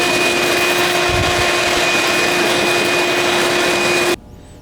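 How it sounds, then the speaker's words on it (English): A workshop vacuum cleaner runs at a loud, steady whine with a constant hum, then cuts off abruptly near the end and leaves a faint low rumble. "This is when we use the vacuum."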